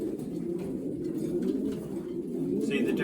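A racing pigeon being handled, cooing continuously in low, rolling murmurs up close, with faint rustling and handling noise over the top.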